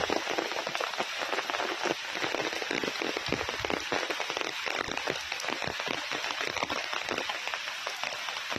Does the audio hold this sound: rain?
yes